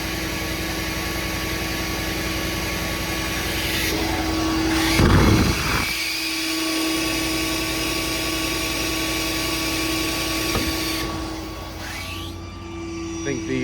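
A 2015 Ford F550 diesel truck idles up with its PTO engaged, a steady low engine drone running throughout with a brief louder burst near the middle and a short knock later.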